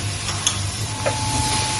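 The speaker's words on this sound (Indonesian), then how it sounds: "kita aduk-aduk sampai timunnya setengah layu, bisa disajikan" Squid and cucumber stir-fry being stirred in a pan, with a steady sizzle and occasional scraping clinks of a utensil against the pan, close and continuous.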